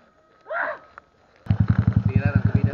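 A motorcycle engine kicks in loud and close after a short stretch of talk, its steady pulsing idle or low rev beating in a regular rhythm until the end.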